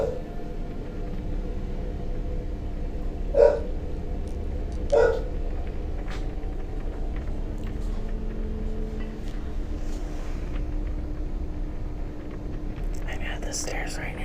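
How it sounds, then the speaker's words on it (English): A dog barks twice from a distance inside a house at night, with faint whispering and a low background hum around it. "I don't know what my dog's barking."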